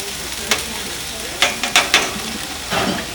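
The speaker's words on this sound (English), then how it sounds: "I like to cook my onions and peppers first a little bit, try to get a little bit of color on that" Onions and peppers fry in grapeseed oil in a large paella pan on an outdoor grill, a steady sizzle broken by several sharp scraping stirs of a utensil.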